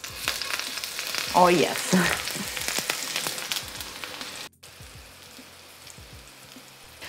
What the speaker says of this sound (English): I like to cook my meatballs in cast iron pan, also on low heat, low and slow.